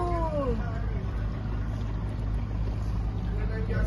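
A houseboat motor runs steadily on the Kerala backwaters near Alleppey, a low continuous engine drone that stays loud and unbroken throughout, with faint wavering tones drifting above it.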